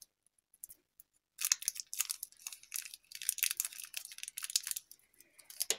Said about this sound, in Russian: Так, скотчем я заматываю.